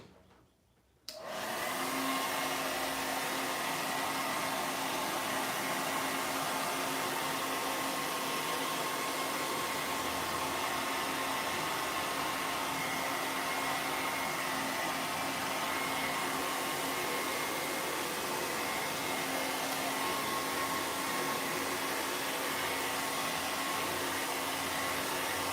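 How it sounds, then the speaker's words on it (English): A hair dryer switches on after a moment of quiet and blows continuously, a loud steady rushing whir with no break. "Hair dryer."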